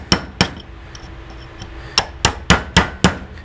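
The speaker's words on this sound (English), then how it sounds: "go ahead and pop this washer out" Sharp metallic hammer blows knock a washer out of a MetalCloak control arm joint, two quick strikes then five more in an even, steady rhythm, close and loud with no talking.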